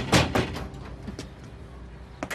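Fist blows bang on a door in a Turkish TV film, two heavy knocks at the start followed by scattered lighter thumps, loud and close.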